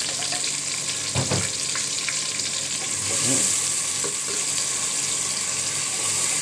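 Onion frying in ghee in a pan for okra with meat, a steady close sizzle with a few stirring scrapes and a brief splash of tap water partway through.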